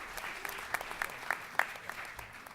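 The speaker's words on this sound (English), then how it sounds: "And give him a round of applause" A crowd applauds a man named Ray Nichols, wearing his usual hat, with steady clapping and sharper peaks that keeps going for the whole stretch, moderately loud, with no talking over it.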